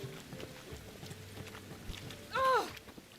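Horse hooves trot in The Witcher 3 video game with a soft rhythmic clip-clop, ending in a short whinny near the close, faint under a quiet game background.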